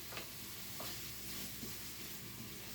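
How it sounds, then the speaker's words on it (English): Steak frying in a pan, a steady close sizzle and hiss with soft scraping as the meat is stirred and mixed, quiet and continuous with no voices. "I'm gonna stir all that in. I'm going to mix a little more steak with it."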